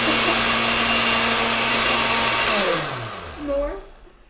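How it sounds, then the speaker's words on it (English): A kitchen blender whirs loudly and steadily for a few seconds, then winds down and stops, its pitch sliding lower as the motor spins out. "Don't listen to the blender."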